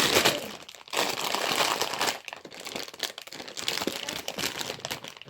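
Plastic packaging around a Sonic plush toy crinkles and crackles loudly and continuously as someone struggles to open it, with brief pauses between bursts.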